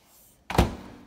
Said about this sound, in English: So just put it in the microwave,